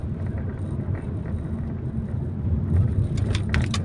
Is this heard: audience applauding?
no